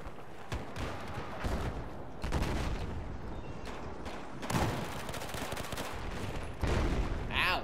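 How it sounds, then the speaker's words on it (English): Rapid bursts of gunfire and booming explosions from Battlefield 4, dense and loud throughout, with a voice talking over the action. "Ow, the explosions, my ears."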